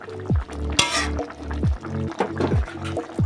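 Mustard and poppy seed paste with bhangor fish simmers in a pan, making close wet bubbling and popping. Repeated sharp clinks of a utensil scraping and stirring through the thick sauce come every second or so.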